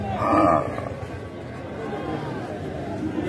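Cattle low and moo among the crowded stalls of Boda cattle market in Panchagarh, where small bulls are traded. One clear moo rises early over a steady bed of market chatter and nearby talking.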